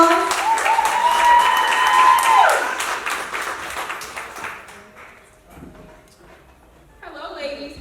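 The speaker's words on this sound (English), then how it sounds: "Let's give her a hand, a good applause" Audience applause welcoming a speaker at an evening gathering of women, loud and full for about three seconds, then thinning out and fading as voices and murmuring take over.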